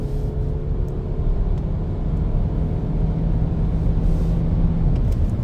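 A 2.0 TDI diesel VW Passat B8 engine, Stage 1 tuned, drones loudly and steadily on a dynamometer in third gear with a low rumbling hum, pitch holding and then dropping away as it decelerates.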